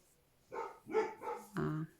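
A few barks from dogs at moderate distance in the countryside, three or four quick yelps in a short burst, fairly faint.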